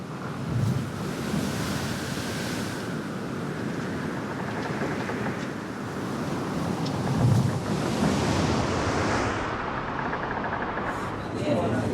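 Heavy storm waves crash and surge against a humanitarian rescue ship in the Mediterranean, with loud, steady wind roaring over the sea and periodic deeper wave impacts throughout.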